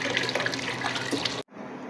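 Small tomatoes being washed under a running tap in a sink, with a steady close splashing gush that suddenly cuts off, followed by a softer trickle.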